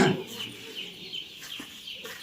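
Young chicks clucking and peeping in a poultry brood, a run of soft, close, repeated calls of moderate loudness with no talking.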